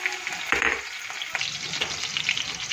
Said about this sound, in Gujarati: તેલ મૂકી દીધું છે ગરમ કરવા. એમાં નાખીશું હવે જીરું.